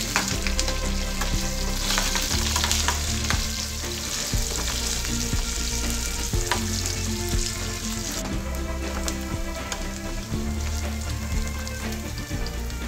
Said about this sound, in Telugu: పచ్చిమిరపకాయలు, ఎండుమిర్చి, కరివేపాకు, ఉల్లిపాయ ముక్కలు వేసుకోవాలి